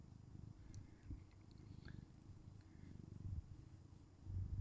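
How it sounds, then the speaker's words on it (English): A small domestic cat purrs softly and continuously very close by, a low rumbling pulse that swells slightly toward the end. "Can you hear the purring?"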